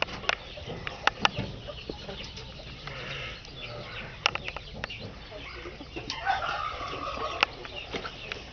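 Chickens and young chicks cluck and peep in a busy farm-animal sale setting, with scattered sharp calls and bursts over a low background murmur. They are moderately loud and close, and there is some faint talk in the background.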